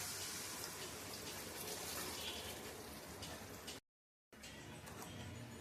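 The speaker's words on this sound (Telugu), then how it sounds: "కొంచెం నీళ్ళు పోసుకోవాలి." Water poured into chicken curry masala, a faint continuous splashing gush that runs for a few seconds, stops briefly, then resumes.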